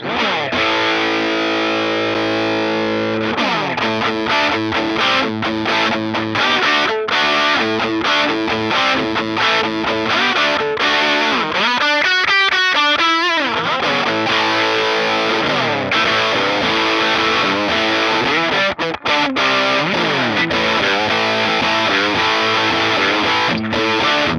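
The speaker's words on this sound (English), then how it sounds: "we're going to add in some TC Electronics vibrato for a little bit of extra cheese on top" A loud electric guitar distorted through a DemonFX Fat Mouse pedal plays chords and riffs with a wavering TC Electronic vibrato effect, strongest in a rippling passage midway, no voices.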